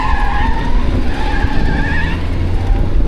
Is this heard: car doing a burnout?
yes